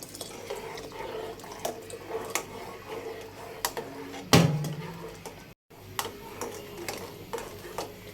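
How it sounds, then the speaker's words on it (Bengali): A spoon works through a cornflour and milk mixture in a pot for homemade vanilla ice cream, giving soft scraping and liquid sloshing with scattered light clinks and one louder knock, close and fairly quiet. "এখন কর্নফ্লাওয়ারের মিশ্রণটা ঘন হওয়া পর্যন্ত এটাকে নাড়াচাড়া করতে হবে।"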